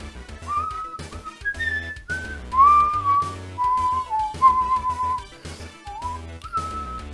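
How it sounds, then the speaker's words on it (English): Melodic whistling from the video game F-Zero GP Legend plays in a bright, sliding tune with short phrases and pauses, backed by a light musical accompaniment, steady and close. "It's like a bunch of guys whistling."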